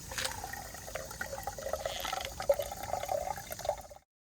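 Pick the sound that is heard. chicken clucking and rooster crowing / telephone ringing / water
water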